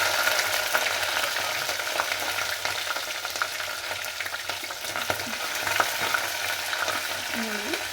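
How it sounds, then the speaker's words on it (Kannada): Chana dal, curry leaves and green chillies sputter in well-heated oil as a tempering for vegetable upma. A steady sizzle with fine crackles and small pops continues evenly and close up, with no talking. "ನೋಡಿ ಹೇಗೆ ಚಟಪಟ ಅಂತಿದೆ. ತುಂಬ ಚೆನ್ನಾಗಿ ಎಣ್ಣೆ ಕಾದಿದೆ."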